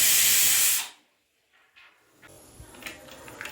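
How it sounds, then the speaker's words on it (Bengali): A pressure cooker on a gas stove, cooking peas, lets out a loud, steady hiss of steam that cuts off abruptly, followed by quieter clinks and kitchen handling sounds close by. "প্রেসার কুকারে ঢাকনা দিয়ে এবার গ্যাস অন করে সেদ্ধ করবার জন্য প্রেসার কুকারটি বসিয়ে দিলাম।"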